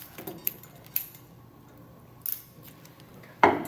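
Surgical scissors cutting tissue during a simulated surgery give a few sharp, quiet snips spaced irregularly, with one louder closing snip near the end against a hushed room.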